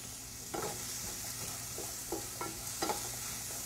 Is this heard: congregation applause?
no